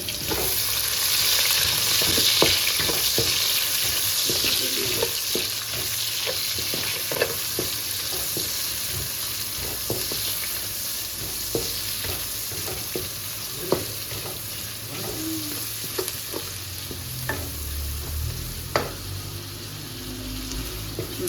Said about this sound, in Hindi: ये प्याज है ये मैं डाल रही हूँ। इसी में इसको ब्राउन करूँगी।